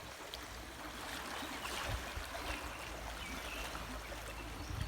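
Fast tidal creek water rushes steadily through a mangrove in Konkan with a constant, dense hiss and churn, close and fairly loud, no voices.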